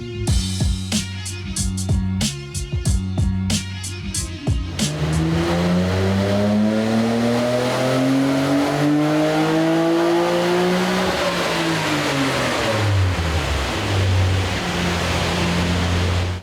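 An RB26 engine in an R33 Nissan Skyline GT-R revs hard on a dyno during a test run with adjustable cam gears and Kelford drop-in camshafts, a loud sustained roar that rises and falls in pitch after a few sharp blips.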